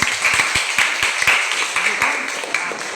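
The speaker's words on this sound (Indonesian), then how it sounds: "Oke, tepuk tangan." A class of students claps together in a classroom after a group's answer, a close, scattered burst of hand claps that tapers off over a few seconds with a voice speaking over it.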